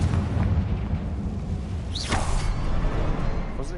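Confringo fire spell blast in the video game Hogwarts Legacy, a continuous roaring rumble with a sharp swooshing burst partway through, loud and dense, no speech over it.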